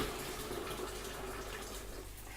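Boiling water poured from a just-boiled kettle into a vessel of tea bags, a steady, close, rushing splash that holds evenly throughout with no talking.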